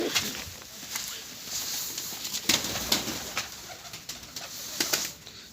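Soft coos from pet pigeons in a coop murmur close by among faint rustling and scattered light taps, with no one speaking.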